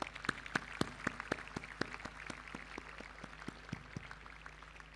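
An audience at a school prize-giving claps for the winners, a steady patter of applause with distinct sharp claps in the room, continuing evenly and without speech.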